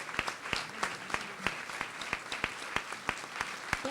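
An audience applauds at an academy induction ceremony, steady clapping with sharp individual claps standing out throughout, moderately loud and without speech.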